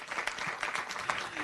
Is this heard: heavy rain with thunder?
no